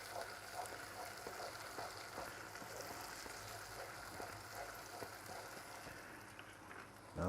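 A dessert mixture melting in a pan while being stirred, a faint continuous sizzle with soft scraping strokes throughout, quiet and close with no talking.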